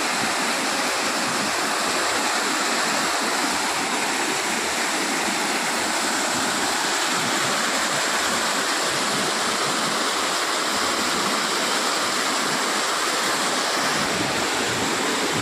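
Water running down from the hill at Panchalingeswar in Odisha, a loud, constant rush heard from close by, steady and unbroken like a small waterfall or stream.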